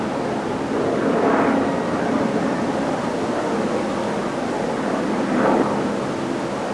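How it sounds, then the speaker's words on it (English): Helicopter flying in the background, a continuous broad engine and rotor rumble that swells gently twice, steady and moderately loud with no voices. "You may be able to hear a helicopter in the background."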